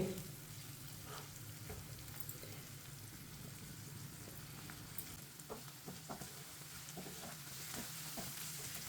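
Eggs and other ingredients, with bottle gourd (lauki) in the dish, sizzle steadily in a pan while being stirred, with soft scraping and clicks from the spoon over a continuous low frying hiss and no voices.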